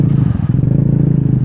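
A Vespa GTS300 scooter engine runs close by with a loud, steady low rumble and a fast, even putter throughout, with no talking.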